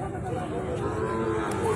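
Cattle at a livestock market where large red bulls are on sale, giving a steady low lowing and grunting close by over dense crowd noise, with faint talk in the background.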